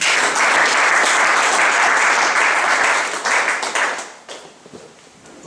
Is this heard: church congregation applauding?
yes